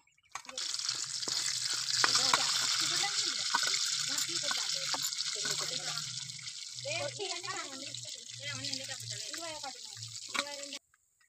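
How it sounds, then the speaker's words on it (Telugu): Spice tempering sizzles in hot oil for a pulichinta leafy-green curry, a bright steady hiss from the pan with a person talking over it almost throughout. "కూర అయితే తాలింపు అయితే పెట్టేసుకుందాం."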